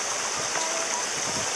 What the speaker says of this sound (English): Casual water. Flowing everywhere.